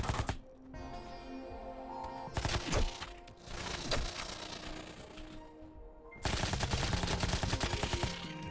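Sustained automatic gunfire from a weapon in the video game Farworld Pioneers, rapid bursts loud and continuous with brief lulls, the heaviest stretch near the end, no talking.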